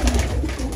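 Izmir post pigeons give a brief, low, soft coo up close, a short throaty murmur lasting under a second.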